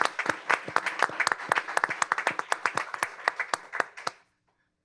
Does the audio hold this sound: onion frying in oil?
no